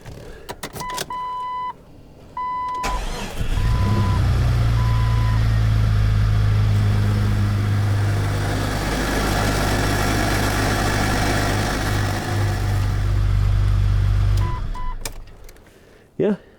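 A Jeep Cherokee XJ engine cranks and fires up after harmonic balancer and crank seal work, settling into a steady, loud idle that runs for about ten seconds before shutting off, with chime tones early on.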